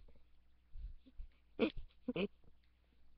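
A wolf (dog) in the video game Minecraft gives a few short, soft whimpers and whines, spaced apart over a quiet background.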